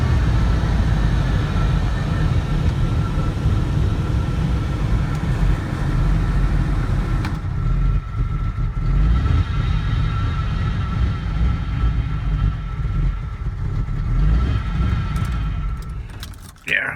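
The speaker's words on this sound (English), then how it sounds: "Listening to some old truck puttering around." An old truck engine idles in a steady low rumble, with a jangle of keys and faint handling noises near the end as the sound drops away.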